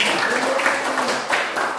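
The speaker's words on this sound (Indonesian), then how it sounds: "Jadi tepuk tangan untuk anak-anak" Schoolchildren clap for each other in a classroom, a short burst of dense, close applause with no voices.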